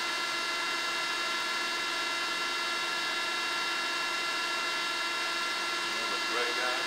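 A Monza Model 510 twin-grip centerless grinder runs just after startup, giving a steady, dense motor hum and whine with broadband noise that holds constant throughout, rising slightly near the end.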